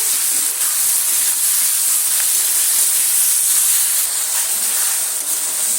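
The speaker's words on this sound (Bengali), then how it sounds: "নুনটা দিয়ে টমেটোটা একটু ভেজে নেবো" Chopped tomatoes frying with salt in a pan give a steady, continuous hissing sizzle that holds at an even level throughout, with no voices.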